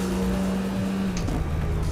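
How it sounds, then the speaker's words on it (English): A Porsche 911 racing in the Need for Speed: Porsche video game, in a 911 Cup event, holds a loud, sustained high-rev engine drone, steady and strained, with no talking. "I'm over revving the car"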